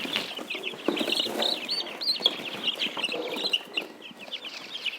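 Young chickens on their fourth day of life, healthy and active, peep and chirp steadily in a dense overlapping chorus that carries through the whole stretch, close by with no voices.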